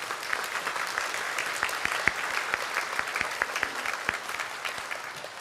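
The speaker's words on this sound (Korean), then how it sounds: "우리 박수로 환영하겠습니다." A church congregation at a Sunday worship service claps to welcome newcomers standing in the balcony, a moderate, fairly distant patter of many hands with sharp individual claps standing out, steady and without speech throughout.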